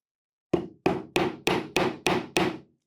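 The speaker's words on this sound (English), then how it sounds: "I'm going to go ahead and hold everything in place with my non-dominant hand and tack in my first nail" Seven sharp, evenly spaced hammer blows drive a nail into wooden toolbox pieces, each a close, ringing strike that quickly decays, with no talking.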